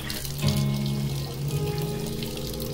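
Hot water runs steadily from a tap in a converted Luton box van, a continuous splashing gush that starts abruptly and keeps flowing close by, with a faint tonal ring from the plumbing and no talking.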